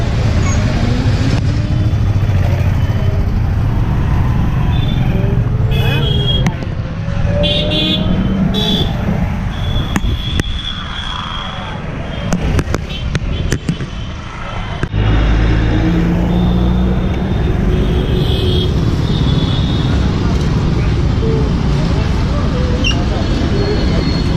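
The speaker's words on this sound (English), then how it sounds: "Traffic jam." A traffic jam in Jaipur, India, heard from inside an electric rickshaw: a loud, constant rumble of engines and road noise with scattered horn toots, and voices talking now and then.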